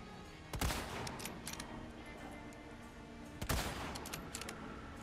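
Two bursts of rifle fire in the dark in Separate Ways (Remake), each a sharp crack trailing into a short rattle of follow-up shots, standing alone over a low ambient game backdrop.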